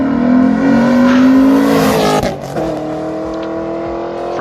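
A Boss 290 Ford GT Falcon engine revs hard and loud nearby, a steady harmonic roar that climbs in pitch, dips briefly, then holds a sustained drone.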